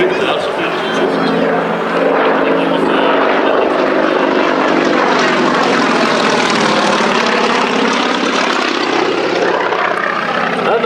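A Yak-50 aerobatic plane with a seven-cylinder radial engine flies an airshow display, its loud, throaty propeller drone sweeping in pitch as it climbs and turns, continuous throughout and fairly close.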